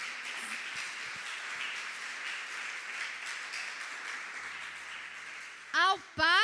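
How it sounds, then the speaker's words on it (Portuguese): A church congregation applauds together, a dense and even wash of many hands clapping that holds steady, before a preacher's voice breaks in near the end. "e eu quero ver uma salva de palmas agora."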